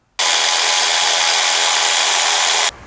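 A power tool loosens fuel rail bolts on a Nissan 3.5L V6, one loud, steady whirring burst of under three seconds that starts and stops abruptly, close up.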